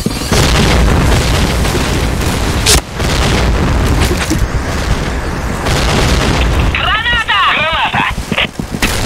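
A grenade detonates in a video game with a loud, heavy boom and dense rumbling debris that fills the mix, followed by more blasts and game noise while a voice speaks over it.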